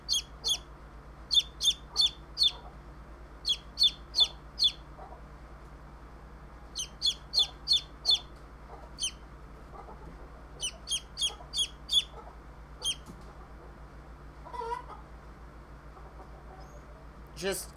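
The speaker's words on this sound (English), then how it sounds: "I am just admiring the chirping." Baby chicks chirp in quick bursts of three to five high peeps, repeating in clusters at moderate volume over a steady low background hum.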